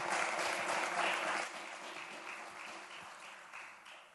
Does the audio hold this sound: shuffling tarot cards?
no